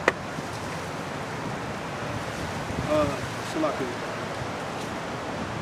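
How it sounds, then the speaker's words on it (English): Wind gusts and steady rain outdoors make a continuous broadband rush, with a brief voice partway through. "It's getting windy, huh? It's rainy. It's starting to rain too."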